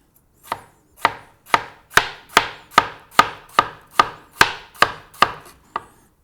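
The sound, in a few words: knife chopping cucumber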